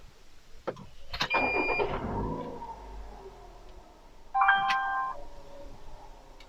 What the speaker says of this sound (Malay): Okey, kita start engine.